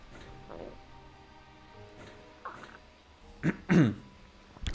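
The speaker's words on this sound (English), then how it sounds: "Sorry, needed to clear my throat." Someone clears their throat twice in quick, rough bursts near the mic after a few quieter breathy sounds.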